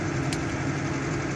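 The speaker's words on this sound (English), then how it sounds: "just ploughing up an old pasture here with the new tractor" A New Holland T6.160 tractor rated at 130 horsepower, nearly new, drones steadily while ploughing an old pasture in late April, a loud, even engine hum with no break or speech.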